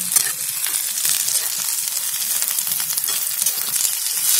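Okra and onion fry in a pan for a village-style bhendi masala, giving a steady, close, fairly loud sizzle with faint stirring scrapes and no voices throughout.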